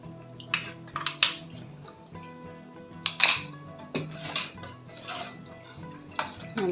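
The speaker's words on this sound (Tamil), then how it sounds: "இதிலே அரைச்ச விழுது நல்லா கலந்து விட்டுக்கோங்க." Fish gravy being stirred in a pot with ground paste mixed in, giving a series of clinks and scrapes of a utensil against the metal pot in irregular bursts, close and moderately loud with no talking.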